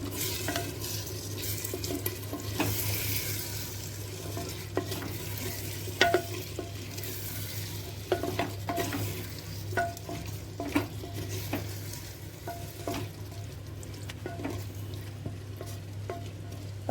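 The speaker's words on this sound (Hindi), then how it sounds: "जब तक पानी सूखता है तब तक कम सेक पर ही खोल के पकाएंगे इसको" Black chickpeas with bottle gourd simmering uncovered in a pan over low heat: a steady close sizzle and bubbling, broken by occasional spoon scrapes and clinks against the pan, with a low hum underneath and no speech.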